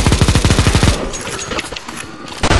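Rapid automatic gunfire from a CS:GO zombie escape match, a loud fast burst of evenly spaced shots for about a second, then scattered fainter shots and game noise before another sharp burst at the end.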